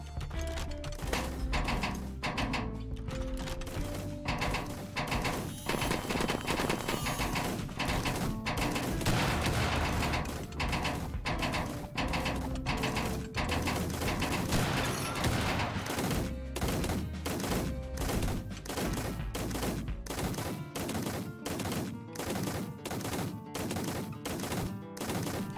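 A chain gun in Bartlow's Dread Machine fires long, rapid, rhythmic strings of shots over driving game music, continuous for the whole stretch.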